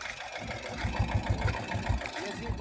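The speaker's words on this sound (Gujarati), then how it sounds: "હળદર વાવવાનો દેશી જુગાર ટ્રેક્ટર વડે આપણે બનાવ્યો છે" A tractor pulling a homemade turmeric planting rig on a farm in Junagadh district idles with a low, throbbing engine pulse, moderately close and steady.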